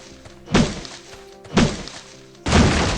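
A character in the survival game Last Island of Survival strikes wood and ore, giving three heavy, thudding impacts about a second apart. They are loud and close over a faint background hum.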